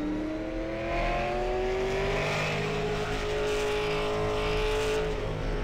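Race car engine holding a steady, loud drone at Martinsville Speedway during qualifying for the Ice Bowl 200, with a smooth rising whine and no pauses across the run.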